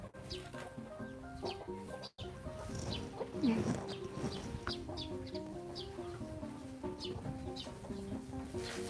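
Chickens cluck in short, scattered bursts around a farmyard table setting for elephants, moderately close, mixed with background music and clatter.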